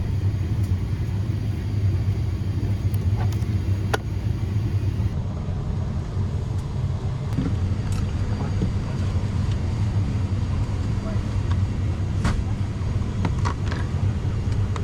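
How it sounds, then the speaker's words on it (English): A Japan Air Commuter turboprop airliner taxiing to the runway, heard from inside the cabin. A steady, loud low engine rumble drones throughout, with a few faint clicks and knocks and no talking. "soon we were off to taxi to the runway and take off for the 90-minute ride over to Yakushima"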